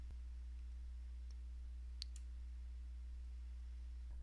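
A single faint computer mouse click on a synchronize button, heard once against a quiet, steady hum.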